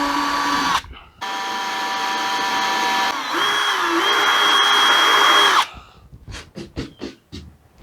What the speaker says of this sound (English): let's go ahead and get these holes drilled